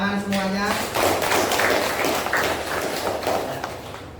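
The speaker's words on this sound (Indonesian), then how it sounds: "Tepuk tangan semuanya" A group of schoolchildren applauds in a classroom, a dense, sustained burst of clapping that follows a brief spoken word and continues steadily throughout.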